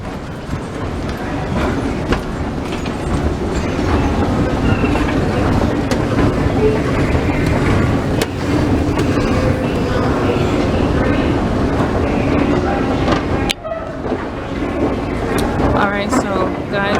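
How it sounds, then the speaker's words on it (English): An airport train carrying passengers to the B gates gives a continuous rumbling ride with rattling, a brief dip near the end, and faint voices in the background. "I'm going to hop on a train, go to the B gates"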